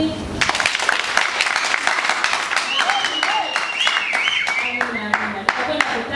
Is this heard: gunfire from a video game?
no